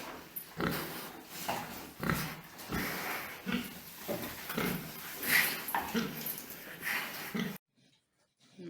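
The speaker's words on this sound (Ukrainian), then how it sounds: "Свинки наші вже теж підросли." Pigs grunt and snuffle up close in a rapid, irregular string of short oinks, then go quiet at the end.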